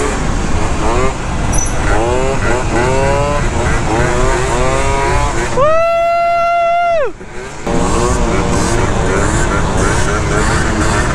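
Scooters on a freeway with loud, close engine revving that rises and falls through repeated gear changes, a long sustained high-revving whine in the middle, and roaring wind and road noise throughout.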